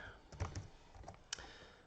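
Typing on a computer keyboard placed some distance away, a few faint scattered key clicks with one or two sharper taps, soft and irregular, no talking.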